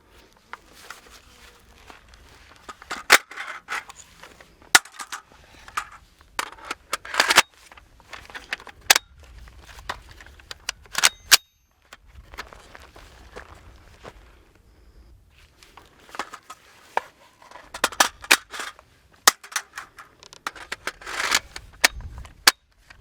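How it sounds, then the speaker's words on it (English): Loading a magazine into an FN PS90 5.7x28 bullpup one-handed on a shooting range, scattered sharp metallic clicks and clacks between quieter handling noise and faint outdoor background. "loading the magazine into the weapon"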